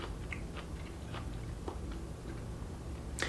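Quiet close-up chewing of a chestnut mushroom from a tofu scramble, with soft irregular crunchy bites and mouth clicks over a low hum.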